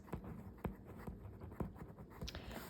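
A pen scratches across a flashcard in short strokes with soft taps between them, close and quiet, no voices.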